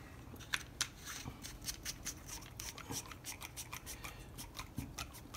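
A tape-wrapped coupler is screwed onto a water valve, giving a steady run of close, dry scraping and ticking clicks from the threads turning, with no talking.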